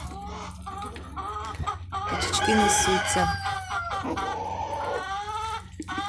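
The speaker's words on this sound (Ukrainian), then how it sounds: "Качки виспитують курей." Ducks and chickens on a farm, with a rooster crowing loudly and clucking close by amid layered bird calls, while a person talks briefly alongside.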